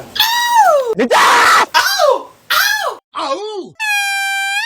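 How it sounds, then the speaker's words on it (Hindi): Loud, strained screaming in several separate bursts, rising and falling wails and shrieks close to the microphone, ending on a long held steady tone. "और हर बार की तरह इसके चीखें"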